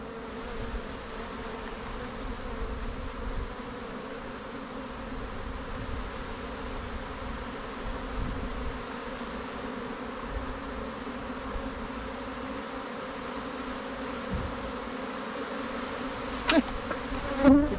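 A honeybee swarm hums in a dense, continuous drone close by, steady and moderately loud throughout with no talking.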